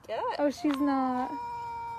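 A kitten gives two short rising meows followed by a longer, drawn-out plaintive meow, close and clear against a quiet background.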